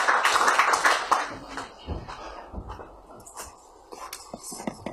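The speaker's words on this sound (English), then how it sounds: "round of applause" Audience applause welcoming Omoyele Sowore to a talk before students, loud and dense at first, then thinning out into scattered claps.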